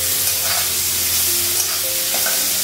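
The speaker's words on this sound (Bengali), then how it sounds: "পেঁপেটা একটু সিদ্ধ করলাম, তাড়াতাড়ি ভাজাটা হবে।" Boiled papaya with dried and green chillies fries in a wok, making a close, continuous, even sizzle with no pauses.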